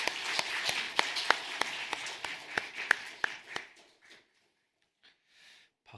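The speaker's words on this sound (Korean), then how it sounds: "하나님께 영광의 박수를 드리겠습니다" Scattered, uneven clapping from a congregation at a Sunday worship service at Mapo Central Church, with sharp separate hand claps for about three seconds before trailing off into quiet.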